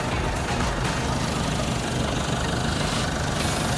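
A 2020 Isuzu D-Max Blue Power Spacecab pickup's 1.9-litre diesel engine idles steadily up close, a constant rough rumble with a knocking clatter, no voices.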